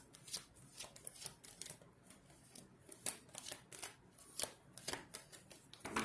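Tarot cards are shuffled in repeated soft riffling bursts, crisp and close, with short pauses between them against a quiet room background.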